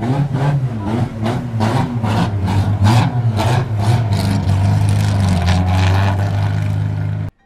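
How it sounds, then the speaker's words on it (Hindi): A car engine in GTA 5 chugs in rough, rhythmic pulses like a tractor, then settles into a loud, steady drone that cuts off abruptly at the end. "इसमें तो ट्रैक्टर जैसी आवाज आ रही है ट्रैक्टर जैसी"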